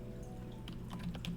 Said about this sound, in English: Oh wait, what am I typing at?